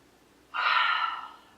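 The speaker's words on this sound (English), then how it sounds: "take 3 deep inhales." A person takes a deep inhale through the nose, close up, of essential oil rubbed into the hands. It is one airy breath lasting about a second, with no talking around it.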